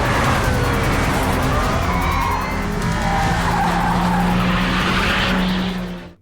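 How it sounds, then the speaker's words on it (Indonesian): Racing cars speed and skid in a street-racing film chase with police, a loud continuous roar of engines and long squealing tires with a siren-like whine, fading out at the end. "Casey dan Rick menggaspol mobil mereka lebih kencang agar terhindar dari para polisi"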